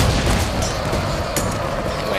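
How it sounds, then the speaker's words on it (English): Grenade volley explosions in a Total War battle, with dull booms rolling under constant battlefield rumble and a voice talking over them. "my Grenadiers getting off another grenade volley"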